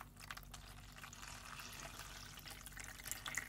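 Water is poured into a homemade fountain, producing a faint, steady splashing pour with a few small drips near the end.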